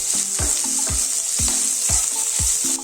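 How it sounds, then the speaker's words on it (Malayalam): Half an onion fries with chana dal and urad dal for kadamba chutney, a loud, close sizzle broken by regular scraping strokes of a spoon stirring the pan, about every half second. "ഇനി ഇതിലേക്ക് ഒരു സവോളേന്റെ പകുതി ഇത് നന്നായിട്ടൊന്ന് വാടി വരണം"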